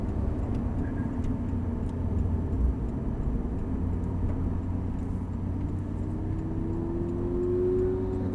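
Porsche 911 Turbo engine rumbling steadily on a racetrack, with a rising whine as another car closes in and passes on the outside near the end; continuous loud road and engine noise throughout.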